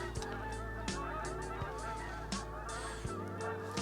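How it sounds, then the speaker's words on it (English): A flock of geese honks loudly and repeatedly on a snowy winter day, overlapping calls crowding together nearby in a busy chorus. "The geese are noisy"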